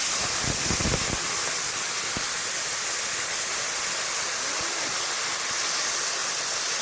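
Steady, loud hiss of steamed taro greens sizzling as they hit frying ingredients in a hot pan, with a few clattering knocks near the start, no talking.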